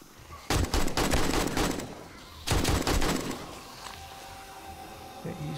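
AK rifle gunfire in the video game 7 Days to Die during a horde night, two close, loud bursts of rapid automatic shots, followed by quieter ambient noise.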